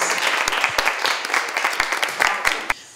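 Enthusiastic clapping from an audience, close and fairly loud with some sharp individual claps, tapering off quickly at the end.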